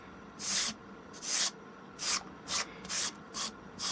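Sandpaper rasps over a wooden part for a Genteel Lady RC glider in seven close, even strokes, each a breathy scratch with short pauses between and no talking.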